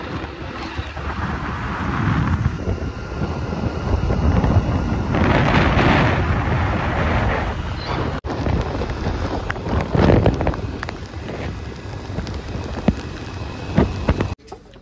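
Rain and wind roar in a steady, loud, broadband wash, with gusts buffeting the microphone and swelling in waves for the whole stretch.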